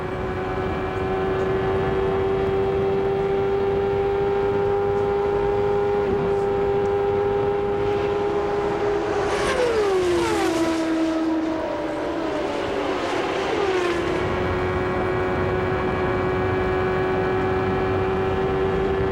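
Onboard engine sound from Nigel Mansell's IndyCar racing in the 1993 Michigan 500 oval race, a loud sustained high-pitched drone that dips sharply as the throttle lifts mid-clip, then swells back, with other cars' engines passing around it.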